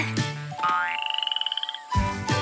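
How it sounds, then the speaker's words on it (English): Little jungle frogs croak up close: a rapid pulsed trill of about a dozen quick clicks rising in pitch, framed by louder honking croaks before and after, with no talk. "These little frogs really stand out in the big jungle."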